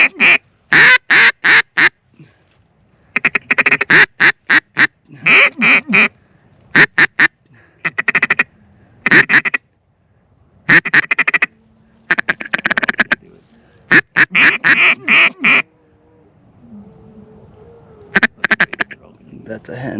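A hen duck quacking loudly and close by in repeated bursts of rapid calls, separated by short pauses, with faint other sounds between the bursts.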